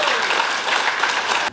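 Audience at a political rally in Butwal, Nepal clapping loudly and steadily, a dense continuous burst of many hands that cuts off abruptly at the end.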